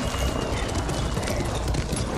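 A horse's hooves clip-clop steadily on the ground in the video game Ghost of Tsushima. The rapid, even hoofbeats sound close and fairly loud, continuing throughout with no speech.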